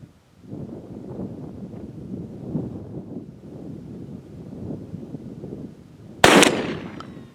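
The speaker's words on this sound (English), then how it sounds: "We're shooting at a distance of 40 yards, shooting 20 gauge shotgun, full choke, 4 buck." A 20 gauge shotgun loaded with number 4 buck and a full choke fires once near the end, a sharp loud blast cutting through steady outdoor wind noise and rustling.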